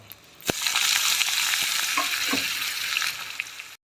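Cucumber pieces dropped into hot oil with tempering spices and asafoetida, setting off a loud, steady sizzle and crackle of frying that starts with a sharp hit and continues close and strong until it cuts off.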